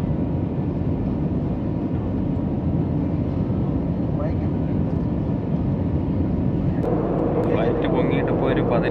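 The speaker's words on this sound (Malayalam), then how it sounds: "അപ്പോൾ ഫ്ലൈറ്റ് ടേക്ക് ഓഫ് ആയിട്ടുണ്ട്." Steady low roar of a passenger airplane climbing after takeoff on a Delhi to Trivandrum flight, heard from inside the cabin, continuous and even, with a person talking over it and a few brief clinks near the end.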